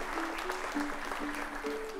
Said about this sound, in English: Families, a round of applause to thank you for the support.